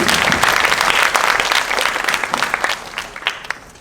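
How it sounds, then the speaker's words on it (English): Audience applauding a student team's presentation at a school international academic forum, steady dense clapping from a crowd that holds strong throughout before thinning toward the end. "Let's give another big round of applause to Team Synergy for their wonderful presentation"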